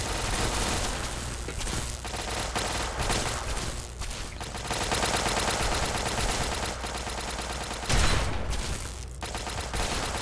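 Turrets firing in Fallout 3 as continuous rapid automatic fire, dense and unbroken for about ten seconds, with a louder burst near the end and no voices over it.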